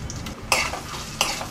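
Cumin, curry leaves and spices frying in oil in a pan, heard up close as a steady sizzle with two sharp scraping stir strokes, and no talk.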